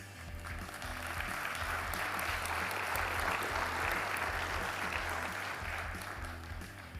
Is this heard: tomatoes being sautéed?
no